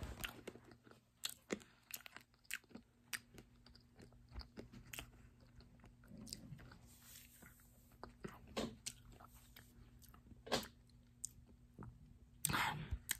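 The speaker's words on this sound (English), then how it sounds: "So, just listen to this crunch." Crunchy chewing of two pieces of decades-old 1987 chewing gum, close to the mic in an ASMR setting, with repeated sharp bites and wet mouth clicks spread across the clip and no talking.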